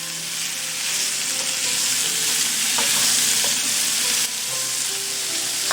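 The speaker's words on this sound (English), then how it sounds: "Now I'm going to add some onions." Onions added to chicken sausage sizzle steadily in a pan on medium heat, a constant loud hiss with faint stirring clicks and no talking.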